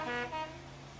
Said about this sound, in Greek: Το σχολικό κορνάρισε δυνατά.